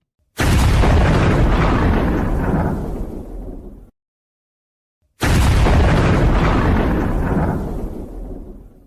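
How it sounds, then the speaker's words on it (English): Two loud gun blasts fired as a two-gun salute in the morning, each a sharp boom with a long rolling decay of about three seconds, separated by a brief silence, with no talking. "we'll at least do a 2-gun salute. It's a little loud in the morning, right?"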